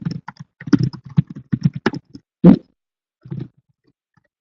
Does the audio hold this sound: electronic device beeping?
no